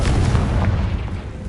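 A Confringo spell blast from Hogwarts Legacy, a short dense booming burst that stays loud and rumbling throughout, with no voices.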